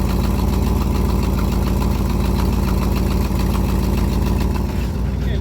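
A 1972 truck engine running rough and starved of fuel, a loud, steady, close throbbing drone with an uneven knocking pulse throughout.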